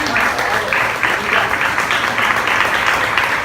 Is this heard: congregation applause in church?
yes